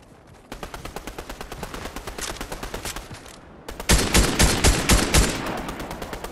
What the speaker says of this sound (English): Keep that gunfire on.